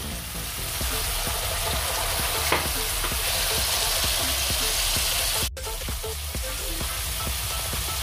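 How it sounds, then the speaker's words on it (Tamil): Cooked cowpeas sauté in oil with dried fish, a dense, even crackling sizzle close up that runs throughout with slight stirring movement and no voices. "ஸோ இந்த தட்டை பயிரை நம்ம எண்ணெயோட சேர்த்து நம்ம வதக்கி வைக்கிறோம் இந்த கருவாடோட"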